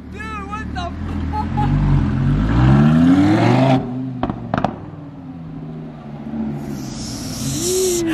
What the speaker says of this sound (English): hit the rev in here one time while I get it from the outside